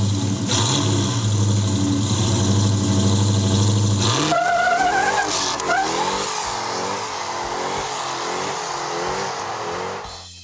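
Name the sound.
car with supercharged Hellcat 707 horsepower engine accelerating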